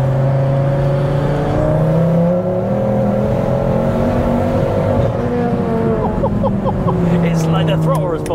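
A fully forged 400bhp Ford Focus ST engine hums and revs steadily, its pitch rising and falling close by, while people talk over it throughout.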